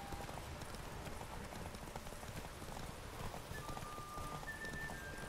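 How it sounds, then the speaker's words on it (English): A horse in The Witcher 3 gallops in a race, its rapid hoofbeats drumming steadily and close throughout, with a faint high whistle-like tone near the end. "Come on, Roach. Show them you don't need to be a thoroughbred"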